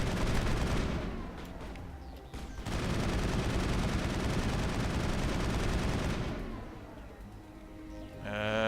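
Sustained automatic gunfire and blasts from a sci-fi shooter battle on the planet Noveria, a dense continuous barrage lasting several seconds, briefly dipping then resuming before fading into lighter shots at the end.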